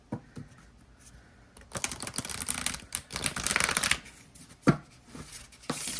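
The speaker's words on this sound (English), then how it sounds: "That's a beautiful shuffle." Matte tarot cards from a nature-based deck are shuffled in several quick riffling bursts, crisp papery flutters and soft slaps, close and moderately loud with short pauses between.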